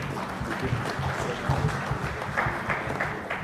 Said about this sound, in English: please join me in giving a warm and heartfelt round of applause